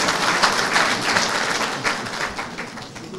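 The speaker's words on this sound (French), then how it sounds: "Applaudissez." Audience applause at a citizens' gathering with the diaspora, honoring a player who won the football cup in 1965; dense, steady clapping from a crowd that fades slightly toward the end.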